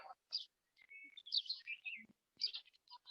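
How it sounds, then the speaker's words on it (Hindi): Several birds chirp and tweet outdoors, bright scattered calls and short trills coming and going in quick succession, fairly faint and alone in quiet surroundings. "सर बैकग्राउंड में पंछी का आवाज आ रहा है"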